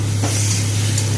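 Vegetables with poppy seed paste mixed with chilli and turmeric sauté with spices, giving a loud, close, steady sizzle and stirring hiss over a low constant hum.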